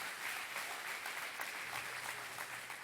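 Congregation in church applauding the Lord during a sermon, a steady dense wash of many hands clapping, sustained and fairly loud throughout with no pauses.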